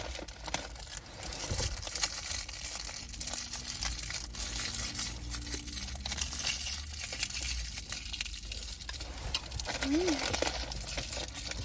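Wrapper of a Milka chocolate bar, Daim or Oreo flavour, crinkling and crackling as it is opened up close, with continuous plastic rustling and soft voices talking over it.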